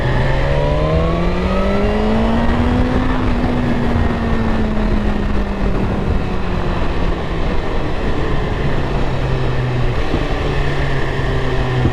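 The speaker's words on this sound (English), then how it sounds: "There's a biker behind me." Motorbike riding behind on a road, engine pitch rising and falling through shifts as it accelerates, a steady close drone mixed with road and wind noise.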